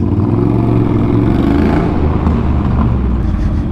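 A 1200cc Triumph custom bobber motorcycle revs nearby with a loud, deep, throaty rumble that holds steady and swells slightly, outdoors with no talking.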